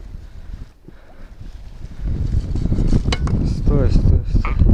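A strong stormy wind batters the microphone during pike fishing out on the water, a loud, rough rumble that builds and stays heavy, with a voice briefly heard under it.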